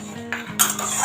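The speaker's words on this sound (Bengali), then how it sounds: "আস্তে আস্তে করে মশলাটা আমি ভাজছি" Spice paste for a prawn curry fried and stirred in a pan, a spoon scraping and clinking against the metal in short close scrapes over a faint sizzle, with no talking.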